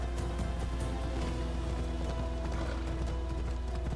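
A horse gallops steadily in Assassin's Creed Odyssey, its hooves drumming in a constant rhythm under a dense wash of ambient game sound, with no talk.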